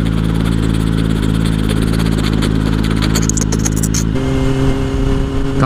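A motorcycle engine revving loudly up close out on the street, a sustained throaty roar that drops into a rougher, lower idle near the end, with no talking over it.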